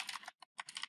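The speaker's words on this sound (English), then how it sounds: "want to type pip install" A pip install command being typed on a computer keyboard: quick, close bursts of key clicks broken by short pauses, with no other sound around them.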